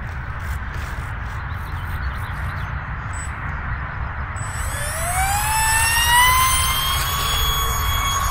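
A micro Great Planes F-86 Sabre RC model jet takes off: a rough rolling rumble gives way to a rising, high-pitched electric motor whine that climbs in pitch as it powers up and leaves the ground.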